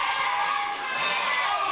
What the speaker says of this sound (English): You can hear the crowd though, they love Kevin Williams,